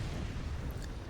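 Weapons fire in the strategy game Forts, a faint, continuous roar of overlapping booms and blasts running through the whole moment without clear separate hits.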